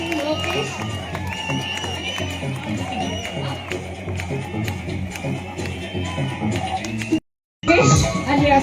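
A crowd claps for a first-prize winner at a village celebration in Gende Hosahalli, Srirangapatna taluk, Mandya district, with steady applause and cheering under a voice over a loudspeaker, cut by a brief silence near the end.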